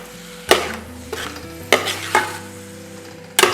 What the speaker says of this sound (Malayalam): ബീഫ് ഇട്ടിട്ട് നമുക്ക് നല്ലോണം ഒന്ന് അടി കൂട്ടി മിക്സ് ചെയ്യണം